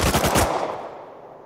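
An AK rifle in Rust Console Edition fires a rapid burst of about five or six loud, close shots, then its echo decays over the next second with no voices.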